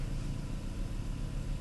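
A Volvo engine idles steadily at close range, a low, even rumble with no revving or speech over it.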